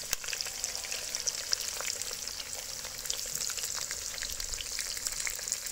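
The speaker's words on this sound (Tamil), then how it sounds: "பட்டை மாங்காய் பொரிஞ்சதும் வெங்காயம் சேர்த்துக்கலாம்." Onions fry in hot oil with cinnamon for chicken 65 biryani, giving a steady close sizzle with a dense crackle of small pops and no talking.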